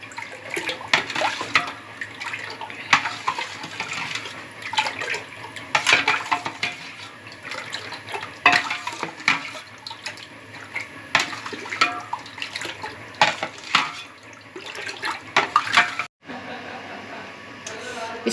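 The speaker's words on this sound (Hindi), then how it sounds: "इसको हमने जग में डाल लिया, प्लास्टिक वाले जग में डाला।" Homemade orange squash juice splashes and pours into a plastic jug amid clinking kitchen utensils, a continuous close watery rush with scattered knocks and a brief break near the end.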